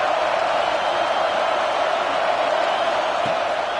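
A college football stadium crowd roars steadily, a loud, dense wash of cheering that holds at the same level throughout with no distinct voices.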